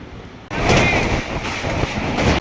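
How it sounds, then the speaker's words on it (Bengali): Vande Bharat train rolling into Panskura railway station, a loud steady rumble and rushing wind noise that starts abruptly and fills the clip without talk. "আমাদের ট্রেন কিছুক্ষণ জার্নি করার পর দেখলাম পাঁশকুড়া রেল স্টেশনে ঢুকছে।"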